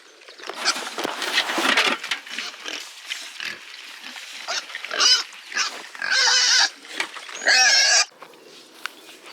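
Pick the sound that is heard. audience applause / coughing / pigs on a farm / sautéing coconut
pigs on a farm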